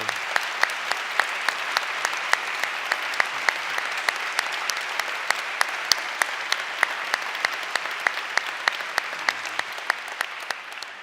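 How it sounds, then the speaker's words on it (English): Sustained applause from a university convocation audience honoring standing faculty, a dense steady wash of many hands clapping with distinct sharp claps punctuating it throughout. "Could our faculty please rise for a round of applause?"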